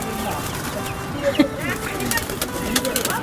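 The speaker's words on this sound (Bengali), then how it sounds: "আর আমার গুগু পাখি আছে" Soft dove cooing amid a busy yard, with other bird chirps and a person speaking nearby.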